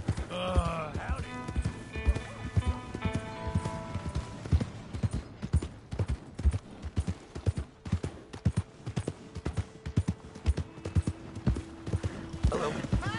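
Horse hooves clip-clop steadily at a walking pace in Red Dead Redemption 2, close and rhythmic, with a whinny near the start and some game music tones layered over the footfalls.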